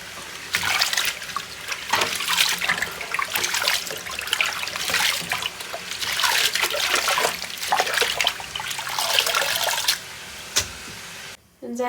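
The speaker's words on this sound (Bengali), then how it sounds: "টুকটাক শাকটাকে আমি ধুয়ে ওই যে তুলে রাখছি" Running water splashing and trickling as leafy greens (shak) are rinsed by hand, steady and fairly close, with brief pauses near the end.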